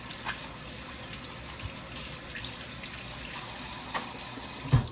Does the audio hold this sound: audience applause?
no